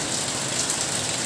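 Steady rain pours down in a dense, continuous hiss that fills the whole moment, with no voices over it.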